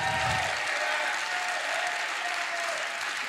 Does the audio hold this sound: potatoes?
no